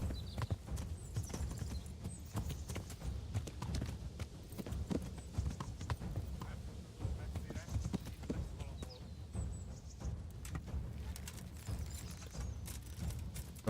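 Horse hooves clip-clop steadily through a medieval fight in Kingdom Come: Deliverance, close and continuous under scattered combat noise and occasional voices.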